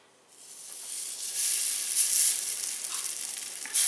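Pupusa masa sizzles steadily on a DASH 19x9 TruGlide nonstick electric griddle, a close, even frying hiss that rises after a quiet start and holds.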